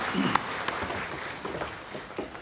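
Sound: congregation applause in church service

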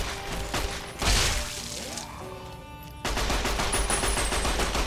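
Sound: gunfire in video game Fallout: New Vegas

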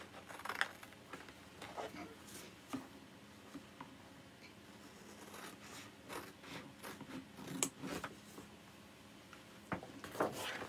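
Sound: cutting out a craft piece with scissors

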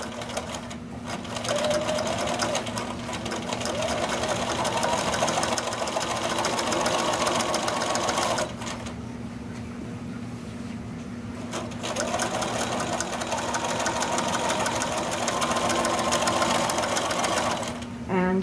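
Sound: sewing machine stitching an old towel into a dish mat

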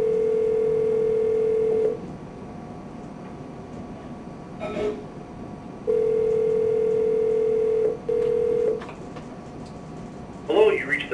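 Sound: telephone dialing and ringing

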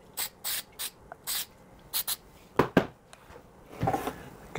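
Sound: spraying spray glue

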